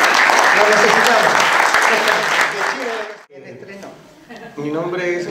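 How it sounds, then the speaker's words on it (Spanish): Audience applauding a young musician at a church gathering, loud steady clapping for about three seconds that stops abruptly, followed by someone speaking. "Un aplauso porque lo necesitamos."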